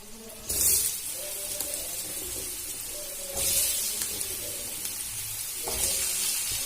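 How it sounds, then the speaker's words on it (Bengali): Potatoes fry in oil left over from frying fish in a home village kitchen, with a steady low sizzle and three louder hissing surges as pieces hit or shift in the pan. "মাছ ভাজের যে তেলটা আছে ওতেই আলুটা দিয়ে ভেজে নেব"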